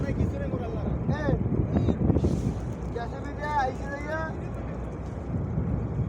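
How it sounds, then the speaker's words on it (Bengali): A ferry passes on a river near a trawler stuck on a sandbar at a ferry ghat, its low engine rumble blending with steady wind buffeting and voices talking nearby throughout. "ফেরি যাইতে আছে"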